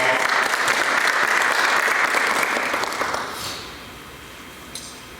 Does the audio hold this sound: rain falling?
no